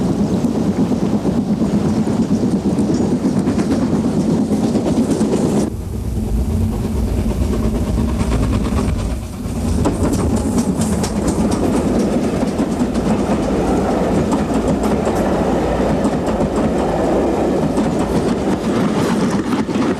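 Steam train running along the River Dart estuary line toward Churston, a loud continuous rumble and rattle of carriages that stays close, with a brief dip partway through.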